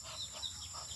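Chickens cluck softly and repeatedly nearby, with low murmuring clucks over a faint background hiss.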